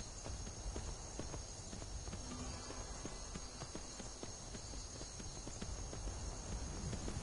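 Steady clip-clop of horse hooves trotting in Skyrim, even and rhythmic, over a constant hiss of game ambience with no voices.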